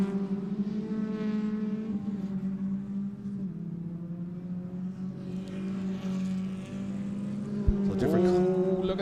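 Historic racing cars circling a circuit during a club race, engines droning steadily with layered tones, one car growing louder near the end; a commentator talks over the engine noise throughout.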